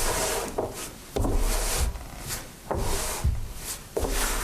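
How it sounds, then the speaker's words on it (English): A heavy dragging sound in an indie horror video game, with repeated scraping, rubbing pulls and low thuds about every second, close and steady, with no talk. "Very long period of dragging noises."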